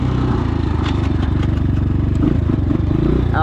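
A Trailmaster TM33 233cc Chinese dirt bike with jetting issues runs during a wheelie attempt, its single-cylinder engine droning loud and close at a steady throttle, with a faint clattering rattle over the running motor.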